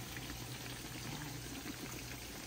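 Liquid bubbles and simmers steadily in a pan of dried fish over medium heat, a dense, even hiss and crackle heard up close with no talking.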